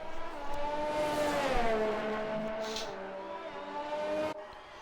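Race car engine in a GP2 car in a racing video game, a whining tone rising and falling as it accelerates and shifts, steady and fairly loud, ending abruptly.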